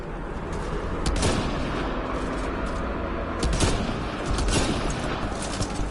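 Gunfire rattles through a Mass Effect Andromeda battle in sustained bursts of fairly loud shots that rise and fall over a constant rumbling background, with no talking.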